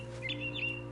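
A mama bird chirps in the video game What Remains of Edith Finch, giving a few brief high tweets over a steady low ambient hum.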